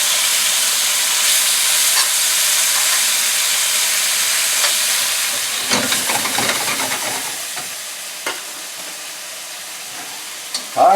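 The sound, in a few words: beef slices frying in a wok on high heat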